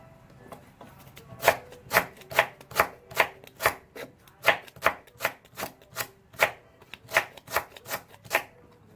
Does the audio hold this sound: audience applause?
no